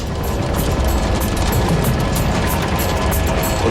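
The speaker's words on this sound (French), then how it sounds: "la foudre." Lightning strikes a helicopter in flight: a loud, sustained crashing roar of broadband noise fills the whole moment, harsh and close, with no voices over it.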